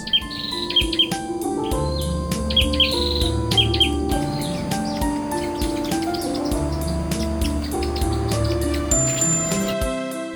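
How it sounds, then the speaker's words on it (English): Several birds sing and chirp continuously in a mangrove in Singapore, overlapping calls with repeated tuneful phrases, fairly close and clear over a soft background. "The mangrove rang with their calls, intertwining with the song of birds."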